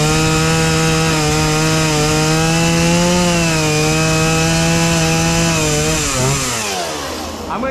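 A chainsaw carving a wood spirit from a log, running loud and close at steady high revs for several seconds with a strong whining buzz, then dropping in pitch near the end as the engine eases off.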